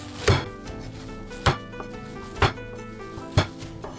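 Four sharp, heavy thuds spaced about a second apart as four garlic cloves are smashed flat with the side of a knife on a cutting board, each blow ringing briefly, close and loud with no talk.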